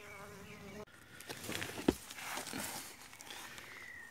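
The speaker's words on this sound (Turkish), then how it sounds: "Şu an mor yer çiçeklerine çalışıyor sadece arı." Honeybees buzz around a weak hive after long rains, a close, continuous insect hum with a few brief knocks and rustles mixed in.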